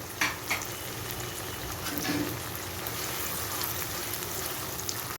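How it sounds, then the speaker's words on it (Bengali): Chili paste and garlic paste sauté in a pan for a Bengali fish curry, with a steady, close sizzle and the soft scrape of stirring running throughout, alone without talk. "মশলা থেকে কাঁচা ভাবটা চলে যাওয়া পর্যন্ত ভালো করে কষিয়ে নিব।"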